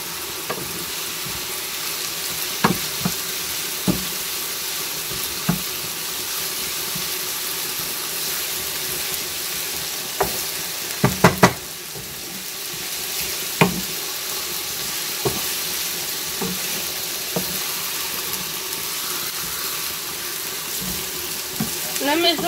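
Onions and peppers fry in a pan with a steady broadband sizzle, broken by scattered clicks and scrapes as they are stirred, the busiest clatter arriving about halfway through.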